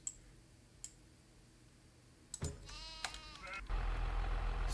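Sheep bleat a few times from a distance, with harmonic calls in the middle, before a loud low engine rumble takes over at the end.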